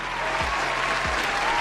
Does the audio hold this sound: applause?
yes